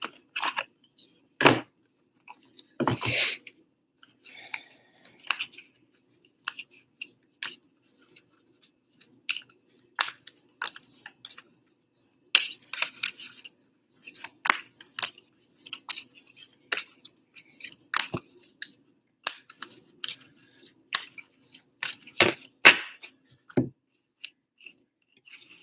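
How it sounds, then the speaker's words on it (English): Tarot cards from a Cozy Witch Tarot deck being shuffled by hand nearby: a long run of crisp, irregular paper flicks and soft taps, with a dense riffle burst early on, heard alone without talk. "Just pre-shuffling some cards here."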